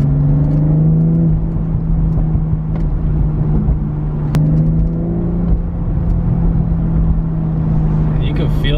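A BMW M340i, a 2020 model, drones steadily under acceleration with a sustained engine hum. Crackling exhaust pops come through briefly, and a voice talks over the engine.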